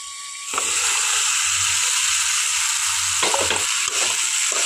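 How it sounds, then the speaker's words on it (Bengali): Okra and potato hit hot oil and fried spices, bursting into a loud, continuous sizzle after a brief quiet start, with scraping stir strokes near the end. "এখানে 2 মিনিট মতো ঢেঁড়স আর আলুটাকে মশলার মধ্যে খুব ভালোভাবে কষিয়ে নেব।"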